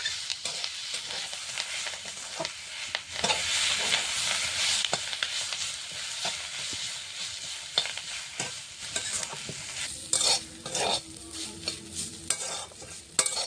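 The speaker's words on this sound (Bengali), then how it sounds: "কারি পাতাটা দেখো ভাজা হয়ে গেছে, পেঁয়াজটা পরে দিয়েছি, দেখো লাল লাল করে ভাজা হয়ে গেছে" Curry leaves and onion fry in a pan with a continuous crackling sizzle, broken by repeated spatula scrapes and knocks against the metal. The clattering grows busier toward the end, close up and without talk.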